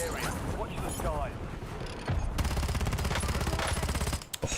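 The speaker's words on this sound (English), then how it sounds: "Oh, this SMG is terrible." SMG gunfire in the shooter game Warzone, rapid repeated bursts that turn steady and dense in the second half, loud and close, with a voice talking over the gameplay.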